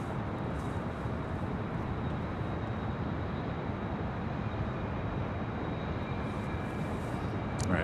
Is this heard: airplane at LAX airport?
yes